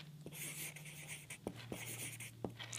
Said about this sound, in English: So if I'm going to take a Sharpie and I'll write